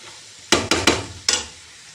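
A semolina dish stirred in a pan, four quick scraping strokes in a short burst, close and fairly loud, against an otherwise quiet background with no speech.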